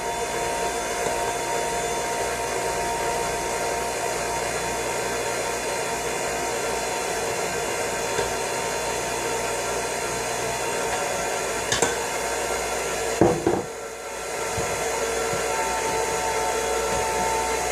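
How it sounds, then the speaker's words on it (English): A steady whirring electric mixer on low speed hums continuously for a long stretch mixing cupcake batter, close and fairly loud, with a few brief clunks and a short dip near the end. "So I'm gonna slowly mix it on a speed of 1 on my mixer"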